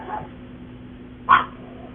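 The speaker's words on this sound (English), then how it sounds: "We have a barking dog now." A single short dog bark at moderate distance, preceded by a fainter yip, over a low steady background hum.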